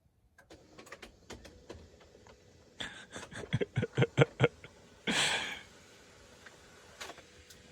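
A small printer whirs through a quick burst of rhythmic mechanical pulses, then a short feed sound, in a quiet room with scattered clicks.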